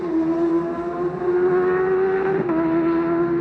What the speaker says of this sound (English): That is the sound of the Padgett's Racing Honda of Ian Hutchinson, now a 5 times TT winner.